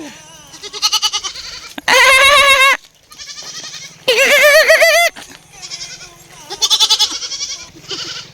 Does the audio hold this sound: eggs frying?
no